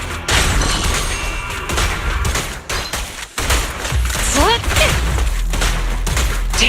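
Rapid video game gunfire, dense bursts of shots and thumping impacts filling most of the stretch, with a short lull partway through and a voice briefly heard over the barrage.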